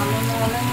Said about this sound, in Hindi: बारिश भी है लेकिन गाड़ियाँ चल रही है